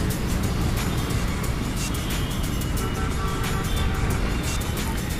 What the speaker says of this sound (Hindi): तो ये गंगवाल बस स्टैंड है और देख रहे हो यहाँ का ट्रैफिक।